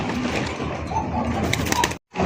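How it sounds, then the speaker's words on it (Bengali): English barhuma pigeons coo steadily at close range in a market setting, a dense rolling murmur of several birds that cuts off abruptly near the end before resuming. "ইংলিশ বারহুমা কবুতর"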